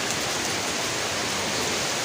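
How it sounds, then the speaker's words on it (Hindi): Heavy rain falls in a steady, dense hiss that fills the whole stretch evenly, close and loud, with no voices. "तब हुई थी ऐसी बारिश। उस दिन के बाद आज ही हो रही है।"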